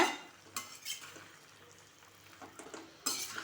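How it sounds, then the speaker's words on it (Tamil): Snake gourd stirred into masala in a pan, a few scraping, clinking strokes of a utensil against the metal with a soft sizzle underneath, fairly quiet and close, no voices. "மசாலாவோட புடலங்காயை சேர்த்து கலந்து கொடுங்க"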